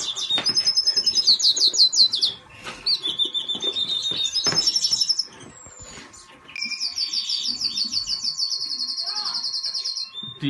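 Two green French mules, finch hybrids, sing in bright, rapid twittering bursts of trills and chirps, close and loud, with brief pauses between phrases and some faint background clatter.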